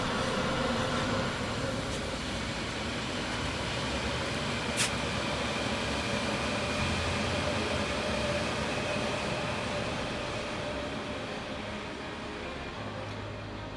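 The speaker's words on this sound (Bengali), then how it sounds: "ট্রেন চলে আসছে।" A train arriving on a line near the London border sets up a steady, loud rumbling roar that holds throughout, easing slightly toward the end.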